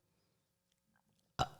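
A single loud, deep burp bursts out near the end after near silence, sharp at onset and trailing off quickly, up close.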